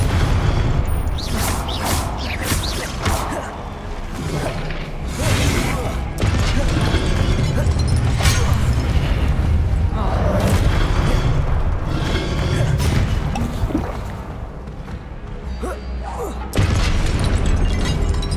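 Confringo explosion spells cast in Hogwarts Legacy, loud booming blasts and crackling magic effects repeating through continuous gameplay noise, with a voice calling out spells over the action.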